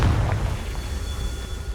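The Confringo fire spell in Hogwarts Legacy goes off as a loud, close explosive blast with a deep rumbling boom that rolls on and decays over a couple of seconds.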